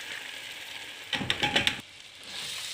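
Chana dal tipped straight into a hot tomato masala in a pan, giving a short burst of crackling sizzle and clatter that rises sharply for under a second over a steady background hiss.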